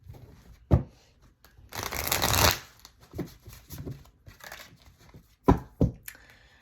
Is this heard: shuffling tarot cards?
yes